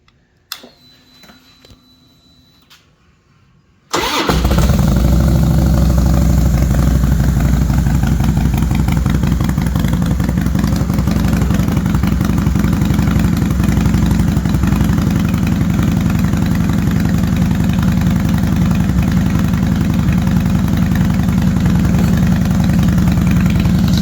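A Harley-Davidson motorcycle fitted with new mufflers idles steadily and loudly after a quiet start, its low rumbling exhaust note holding continuous for about twenty seconds with no talk.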